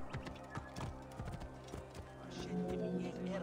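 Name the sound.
horse hooves in video game Assassin's Creed Origins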